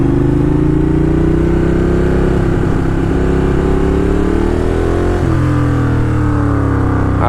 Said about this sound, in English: The Ducati Diavel hates that Ford Escape.